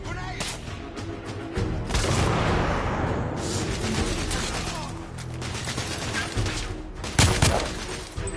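Combat in the game The Order: 1886 erupts with a frag grenade blast and a dense volley of rapid gunfire, sharp cracks and booms stacking into a loud, chaotic barrage.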